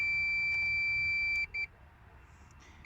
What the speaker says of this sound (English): it'll beep and tell you it has continuity